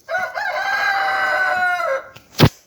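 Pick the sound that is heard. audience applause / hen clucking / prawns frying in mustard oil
hen clucking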